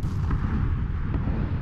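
A loud, booming explosion from the PC battle-royale game PUBG rumbles low and heavy, a sustained blast that fills the whole moment with no talk over it.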